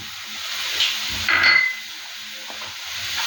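Green chillies fry and get stirred in a pan of shrimp tiyal, a soft steady sizzle with a brief louder scrape of the spoon midway, close and without talk.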